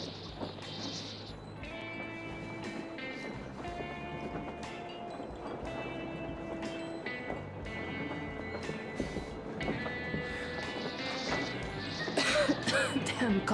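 In Metro Exodus, a character's throat clearing and coughing come through amid layered game ambience and a steady mechanical hum, with the coughs fairly faint under the background.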